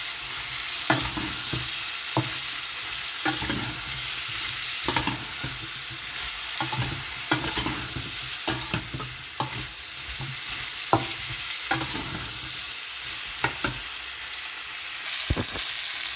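Eggs fry with zucchini in a pan, giving a steady sizzle broken by repeated scraping clicks as a utensil stirs the mixture at irregular intervals; close and quiet, with no speech.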